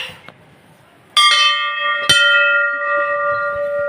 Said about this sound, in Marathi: आता आम्ही घंटी वाजवू